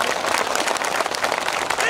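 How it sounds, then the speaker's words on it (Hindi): An assembled hall audience at a Bhagat Singh martyrdom day event in Mandsaur applauds a speaker with hands raised, a dense continuous burst of clapping with crowd noise. "दोनों हाथ ऊपर उठा करके तालियों से आचार्य जी का स्वागत करें।"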